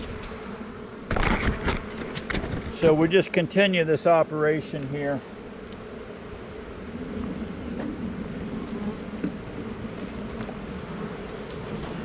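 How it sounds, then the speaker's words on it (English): Honey bees buzz in a dense, steady drone as hive frames are shaken, the swarm close and continuous while someone talks briefly over it. "You can see the bees are moving down."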